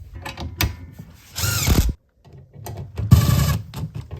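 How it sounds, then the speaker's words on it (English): Impact wrench snugging the bolts of an AMP BedStep being installed on a 2022 Ford F-350 Super Duty Tremor: two brief hammering bursts about two seconds apart, close up, with light metallic clanks from tools and parts between them. "I'm going to use the impact to tighten up these bolts just a little until they're snug"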